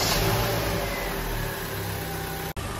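A rebuilt Opel Astra J engine runs steadily in a workshop with a smooth, even hum at moderate level, no voices, and a brief dropout near the end.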